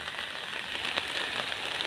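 Rain falls outdoors as a steady, soft hiss with faint scattered patters of drops, continuous and even throughout with no voices.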